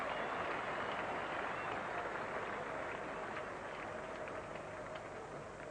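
Steady, distant applause rolls from cricket supporters at an England versus New Zealand test match, a soft, even patter of clapping with no break.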